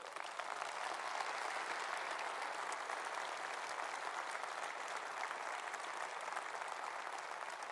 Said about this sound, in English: You see my friend Michael leading the clap there